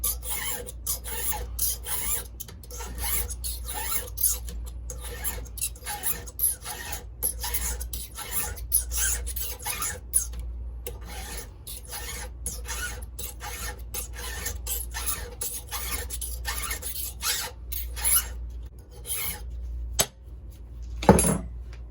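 A square hand file filing the rakers of a 3/8 West Coast saw chain on a Husqvarna 39, with steady close rasping strokes sliding across steel in a regular rhythm, and no talk.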